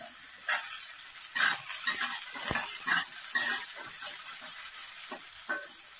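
Onion frying in a pan for green chickpea ghugni, a continuous bright sizzle with repeated soft stirring scrapes close by.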